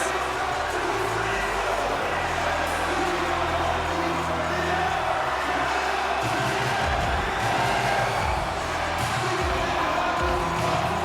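An arena crowd in the NHL 25 hockey video game roars after a goal, a loud, sustained wall of cheering and whooping that swells and falls, with a commentator's voice faintly underneath.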